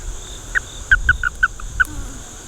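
A toad being gently squeezed gives a run of about six short, high, bright chirps in quick succession over a faint background hiss.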